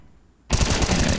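An AK rifle in a Counter-Strike: Global Offensive match on the Overpass map opens up after a brief quiet moment, a loud, close, sustained burst of rapid automatic fire.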